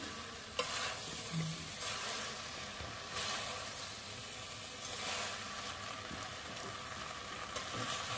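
Soybean chilli with fried soybean chunks stirred and tossed in a frying pan, a soft steady sizzle with scraping and stirring strokes that come and go at low volume.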